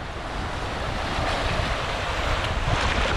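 Sea waves wash against a rocky beach at Cửa Đại, Hội An, a steady broadband roar of surf with wind buffeting the microphone, fairly loud and continuous with no voices.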